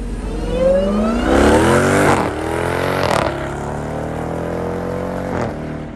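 Manual LS3 Corvette engine revs hard while doing donuts, rising and falling through repeated upshifts and throttle lifts, loud and close with continuous engine roar.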